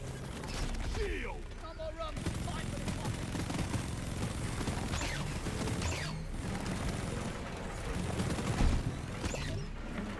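Sustained automatic gunfire from an autocannon and minigun in the video game Deep Rock Galactic, a dense continuous mechanical rattle with heavier thumps, loud and filling the whole stretch with game effects layered in.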